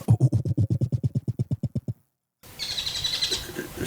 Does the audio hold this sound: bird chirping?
yes